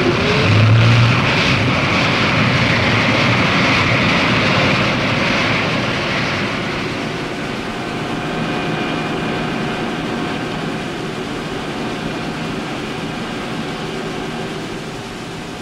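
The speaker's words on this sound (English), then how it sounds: "Marinized gas turbines provide the power required to keep the ship foil-borne." Marinized gas turbines power a Navy hydrofoil ship, a steady, loud broadband roar with a high whine that eases slightly midway and then settles into a sustained drone with clear tonal hums.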